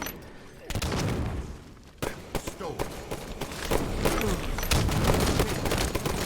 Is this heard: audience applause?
no